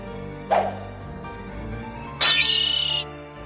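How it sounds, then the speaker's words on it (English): Bird cries from a fight with birds, such as starlings, in the Ruins & Riches Akalabeth mod: a short squawk early on, then a longer, louder shrill call, over a quiet game background. "Because I'm fighting birds."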